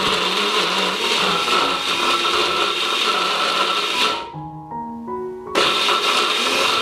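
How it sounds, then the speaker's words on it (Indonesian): Blender pulsing briefly through a chunky sambal chili sauce in a Bali warung-style recipe, a loud steady whir that drops out for about a second before resuming at full strength. "Sekarang kita akan blender sebentar aja supaya masih ada tekstur dari sambalnya itu."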